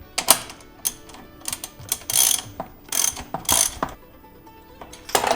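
Quick ratcheting clicks in short bursts from a ratchet tightening a sensor into the cylinder head of a home-built BMW E36 race car, sharp and close with brief pauses between strokes.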